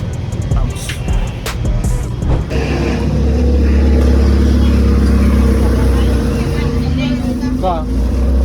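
Car ride through the streets of Lima, with a steady loud engine and road rumble filling the cabin, a few sharp knocks near the start, and a voice talking over it.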